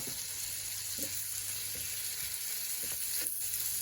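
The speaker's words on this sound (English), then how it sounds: "So we can just start dropping our lobster in the pan." Steady, close sizzle of lobster frying in a pan with a few soft clinks and stirring noises, and nobody talking.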